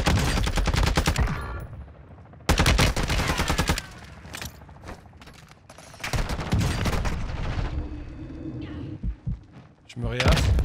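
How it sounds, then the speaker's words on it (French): Video game gunfire aimed at a jammer, heard as rapid bursts of automatic shots that start and stop in several long volleys, with voices talking in between. "il tire sur le brouilleur"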